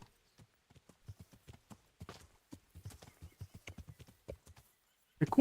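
Horse hooves clip-clopping at a walk in the medieval video game Kingdom Come Deliverance, a steady series of distinct, fairly close hoofbeats, ending in a louder burst near the end.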